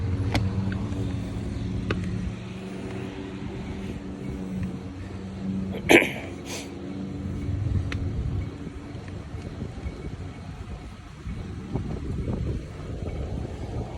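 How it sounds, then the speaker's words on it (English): A slow ride at about 7 miles an hour on a custom easy-rider style vehicle: a low, steady motor rumble with wind buffeting the microphone, a sharp knock near the middle, no talking. "we're riding along over here going about 7 miles an hour"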